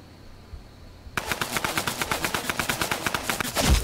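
Rapid automatic gunfire from the Fortnite video game, a fast, evenly spaced burst of loud shots lasting a few seconds after a brief quiet lead-in.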